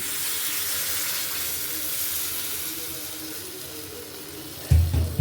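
Water poured into a pan of drumstick curry, a steady running, splashing wash with a louder surge of pouring near the end.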